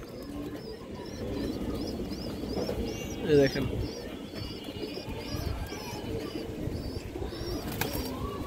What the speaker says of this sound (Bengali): খুব সুন্দর এক পেয়ার সিলভার কবুতর আছে